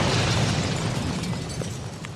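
A loud, sustained rumbling blast from a cartoon roars throughout, dense and booming with crackling debris, like a big explosion up close.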